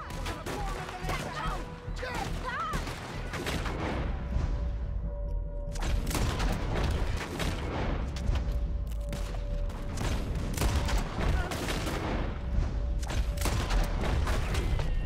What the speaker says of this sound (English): Okay, skip the cutscene and start shooting.